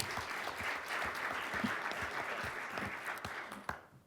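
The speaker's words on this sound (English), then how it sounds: "Let's give them a round of applause." Steady applause from a conference audience at an HR industry forum's talent competition awards, a dense continuous wash of many hands clapping that holds for about four seconds and then cuts off abruptly.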